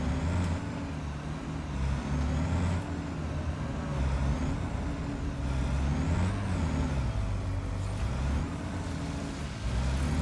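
A truck in the Satisfactory factory game drives along, its engine droning steadily with shifting pitch as it climbs and changes speed, a continuous loud motor hum and whine filling the whole stretch with no voices.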